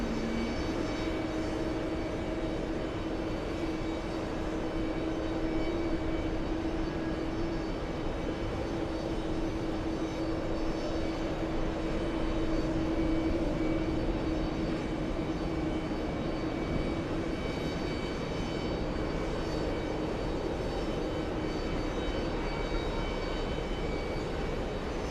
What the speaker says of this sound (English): The next arrival, A321neo, is flying in from Phoenix.